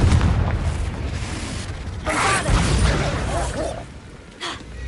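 A Confringo blasting spell explodes in Hogwarts Legacy, a booming burst that swells near the two-second mark and rolls on over rumbling battle noise for several seconds.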